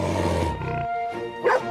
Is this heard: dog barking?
yes